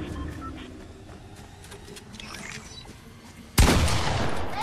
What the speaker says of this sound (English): Hey, who's shooting?